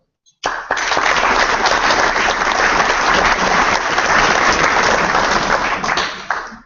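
Meeting audience applauds a slate of candidates: dense clapping bursts in suddenly, holds loud and even for about six seconds, then tapers off near the end.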